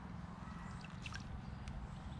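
Water drips and trickles from a cooling towel being wrung out, soft close patters and splashes over a steady low background hum, faint and without talk.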